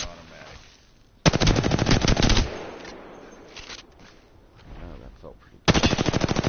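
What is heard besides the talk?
automatic weapon gunfire in video game Apex Legends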